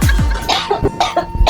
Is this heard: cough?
yes